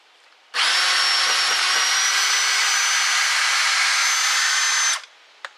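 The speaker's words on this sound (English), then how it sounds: "you normally aren't driving screws like this with a 1/2-inch drill" A Ridgid cordless half-inch drill drives a screw in one loud, steady whine that runs for about four seconds, then stops abruptly, with a brief click afterward.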